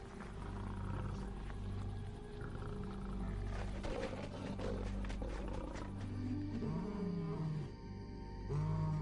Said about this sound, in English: Lions have 9 different vocalizations, but it's their roar that indicates their domain.